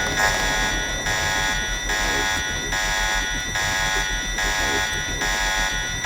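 Alarms blaring in the Deus Ex video game, a loud electronic buzzing tone pulsing on and off in regular bursts about every second, heard alone without voices.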